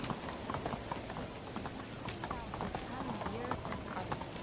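A donkey ridden in the video game Medieval Dynasty clip-clops with steady, close hoofbeats at a brisk walking pace, while a person talks over the rhythm.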